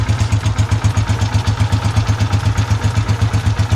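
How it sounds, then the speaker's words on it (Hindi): A restored Honda CG125 motorcycle idles just after a kick start, its single-cylinder engine chugging in a fast, even, loud thumping rhythm right beside the listener, with no talking over it. "हाफ किक पे ये स्टार्ट हो रहा है।"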